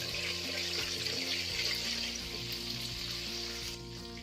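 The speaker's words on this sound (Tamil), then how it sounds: "செகண்ட் ஃப்ரை வந்து அனல் கொஞ்சம் அதிகமாக வச்சுட்டு நல்லா ரோஸ்ட் பண்ணி எடுத்துடலாம்." Chicken leg pieces fry in oil over high heat on their second fry, giving a steady, fairly quiet hiss and bubbling sizzle with a faint low hum beneath.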